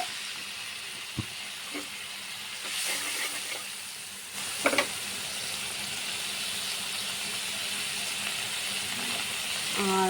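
Green chillies, salt and a little water sizzle with cabbage in a pan, a steady frying hiss throughout with a few faint clinks of stirring.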